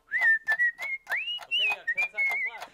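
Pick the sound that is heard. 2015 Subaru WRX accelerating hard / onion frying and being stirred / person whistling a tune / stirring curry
person whistling a tune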